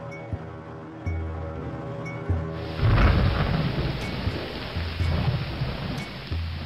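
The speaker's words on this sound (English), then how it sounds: "the weather deteriorates into a storm. It rains as much outside as inside." A rainstorm breaks in partway through, with heavy rain hissing loudly and steadily over a tonal music bed that plays throughout.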